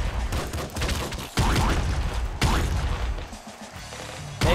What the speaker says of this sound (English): That corpse explosion thing